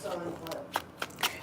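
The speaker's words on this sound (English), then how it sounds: "I'm going to shuffle one more time." Tarot cards being shuffled by hand: a soft papery riffle and shuffling rustle with a few sharper card snaps near the end, close and quiet.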